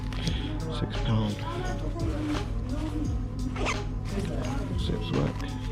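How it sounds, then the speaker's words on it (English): Clothing zips being pulled open and shut to test them, a series of short rasping zipper runs under steady background chatter and shop noise. "Zips work."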